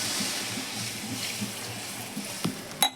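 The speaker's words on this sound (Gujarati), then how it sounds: "અને પછી નાખીશું પાણી." Water runs from a tap into a cooking pot while Maggi noodles are being made in a home kitchen, a steady rushing splash with a few clinks and knocks of the pot near the end.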